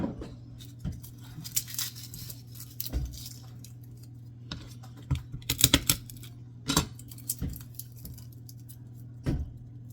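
Crushed, peeled garlic cloves dropped one by one into a pint glass jar, giving a series of light clinks and taps spread irregularly over a quiet background.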